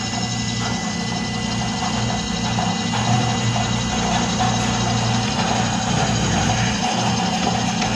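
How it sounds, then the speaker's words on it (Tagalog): A refrigerator's blower fan running during a repair test on a fridge that won't cool, a loud, steady mechanical whir with a constant low hum and faint rattling throughout, close up and without talk. "Meron na siyang blower. Gumagana na yung blower niya."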